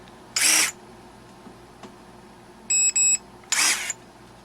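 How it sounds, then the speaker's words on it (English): Two short electronic beeps in quick succession from SundpeyPRO 21V cordless pruning shears, between bursts of a brief mechanical whir of the blades before and after. "and it went beep beep, and then it opened but not as wide"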